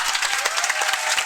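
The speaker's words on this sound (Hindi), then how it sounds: "जोरदार तालियों के साथ।" A crowd at a student farewell ceremony applauds in welcome, a brief, dense burst of many clapping hands heard close and loud.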